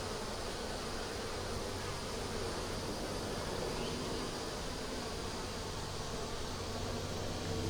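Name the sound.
honey bees buzzing around an opened nuc hive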